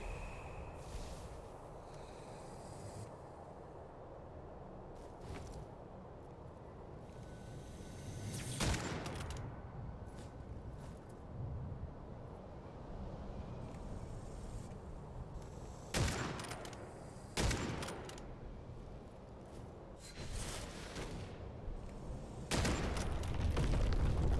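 Scattered heavy shots and booming blasts in the dark fantasy shooter Witchfire, a handful of loud separate reports spaced over a low ambient rumble, with a louder cluster near the end.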